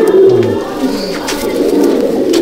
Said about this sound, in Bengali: এটা হচ্ছে নর পায়রা, দেখুন নর পায়রাটা দেখুন, একদম সুন্দর।